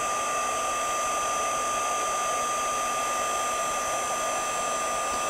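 An electric heat tool blows a steady, continuous whirring hiss while heating embossing powder on a crafting project, close and unchanging throughout.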